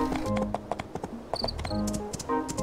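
Horse hooves clip-clop in the video game My Time at Portia. Quick, regular taps stay close and moderately loud over a soft game background.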